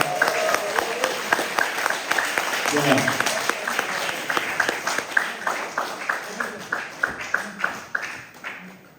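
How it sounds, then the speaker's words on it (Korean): A lecture audience gives sustained applause at the close of a history talk, with many hands clapping steadily and thinning into separate claps toward the end, plus a few murmured voices. "다시 한번 박수 부탁드리겠습니다"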